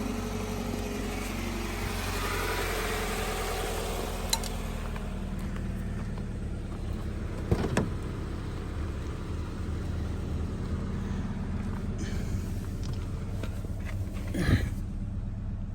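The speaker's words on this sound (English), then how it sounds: "And now we stop the engine." A 2017 Toyota 86 engine idles during an oil change with a steady low rumble for a long stretch, a few clicks and clunks punctuating it, then it cuts out near the end.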